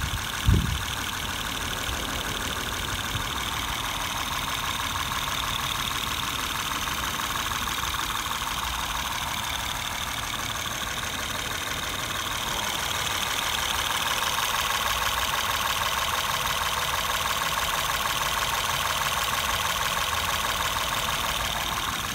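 A 2012 Acura TL SH-AWD's 3.7-liter 305-horsepower engine idles steadily with a smooth mid-pitched hum and a faint tick, close by and unchanging for the whole stretch.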